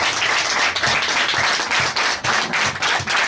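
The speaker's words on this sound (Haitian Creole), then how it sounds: "Nous applaudissons plus fort, plus fort, plus fort." An audience bursts into sustained, dense applause during a church wedding gathering, many hands clapping together in a steady, loud wash of claps that keeps going for the whole stretch.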